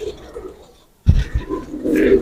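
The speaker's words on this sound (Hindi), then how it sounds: "ये कबूतर है" Silence breaks into a close, soft pigeon coo, low and throaty, followed by a few more murmuring coos with faint rustling around them.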